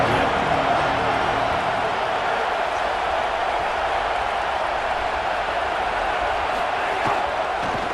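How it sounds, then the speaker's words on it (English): Dense, roaring crowd at an Alabama versus Ole Miss college football game, a steady wall of cheering and noise in a big stadium, with faint commentary talk beneath it. "this crowd is ready"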